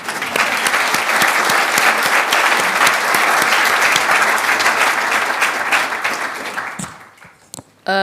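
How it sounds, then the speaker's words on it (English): An audience at a talk gives a speaker another round of applause, loud dense clapping sustained for several seconds before fading out near the end, with a brief voice emerging as it stops. "I think we should give him another round of applause"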